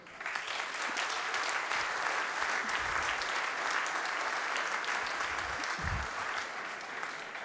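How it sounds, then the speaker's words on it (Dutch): A university audience at a VUB alumni event applauds, a dense and sustained clapping that holds steady and fairly loud throughout, with no voices over it. "jullie mogen best wel eens voor jullie zelf applaudisseren"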